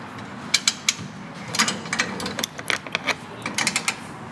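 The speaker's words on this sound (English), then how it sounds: "just loosen this main winch off." The main winch on a Star Vision FX2 camper is loosened with a string of quick ratcheting clicks in short irregular bursts, faint and close with no talk.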